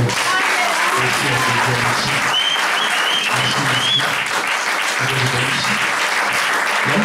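A church congregation applauding to acclaim the Lord, sustained loud clapping filling the room continuously with a few faint voices and cheers mixed in.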